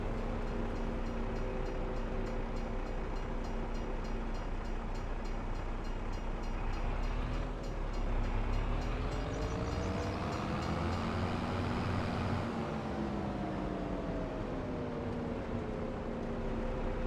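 A train rolls along railway tracks in Farming Simulator 25, a steady loud rumble of wheels with sustained tonal hum that shifts slightly in pitch as it passes, filling the whole stretch with no talk.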